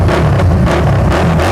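Harley-Davidson Street Rod 750 motorcycle with an aftermarket silencer, engine loud and close, throbbing in a deep pulsing rumble with brief surges as the throttle is blipped.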